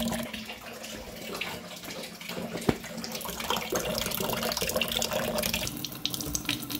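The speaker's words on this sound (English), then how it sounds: "You're going to let the water run through your filter faucet for 30 minutes" Water runs steadily through a Multipure Aquaversa filter faucet to flush loose carbon particles from a new filter, a continuous broadband rush into a sink that grows slightly louder partway through, with no talking.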